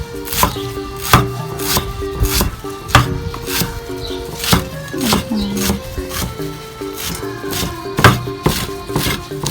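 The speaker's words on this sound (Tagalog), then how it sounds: "Pagkatapos na ma-arrange ay hiwain ng pinong-pinong." Knife finely chopping cassava leaves on a board for a coconut-milk leaf dish, a run of sharp, close chopping strikes in an irregular rhythm with no talking.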